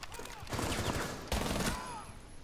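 Rapid automatic gunfire in the tactical shooter Rainbow Six Siege, two dense bursts of close shots separated by a brief pause, fairly loud with no talk over it.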